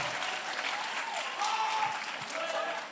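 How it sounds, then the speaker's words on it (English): Audience applause at an agritech pitch competition final, a steady wash of clapping from a room of people lasting the whole stretch, fairly loud and continuous with no words spoken. "I think you can clap for yourselves"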